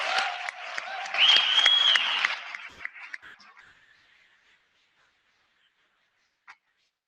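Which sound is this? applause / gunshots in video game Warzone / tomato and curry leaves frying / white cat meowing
applause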